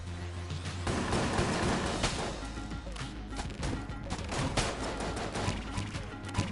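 Gunfire in the dungeon-crawler shooter Enter the Gungeon, from a hollow point bullat enemy: dense rapid volleys of shots and impacts crackle continuously, loud and busy, with game music underneath.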